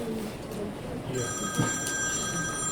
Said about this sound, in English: Cell phone's ringing.